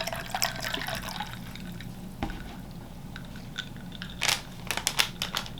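Sugar-free pink lemonade poured into a Diet Coke bottle, with splashy liquid trickles and drips, a clink, and a brief gurgling pour near the end, all close up with no talking.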